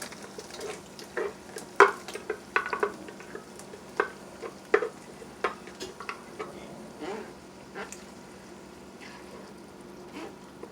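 Ground tomato and onion sauce being stirred in a pot as it stews, a steady soft scraping with scattered clicks and light taps of the spoon against the pot, close and moderately loud, with no talk.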